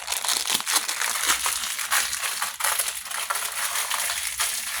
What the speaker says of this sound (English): So I'm going to take a sleeve of Ritz crackers and crush them up all over the top.